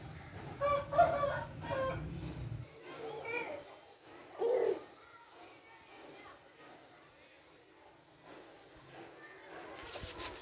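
An Aseel fighting rooster crows loudly in a short burst, with someone talking nearby before and after and other birds and background activity faintly present.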